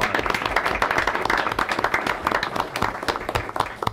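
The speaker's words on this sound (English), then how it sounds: "give them all a round of applause." Applause from the audience at a school board of education meeting, with steady, dense clapping from many hands filling the room for the full stretch, close and fairly loud.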